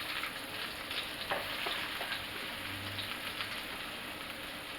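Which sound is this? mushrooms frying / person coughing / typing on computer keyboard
mushrooms frying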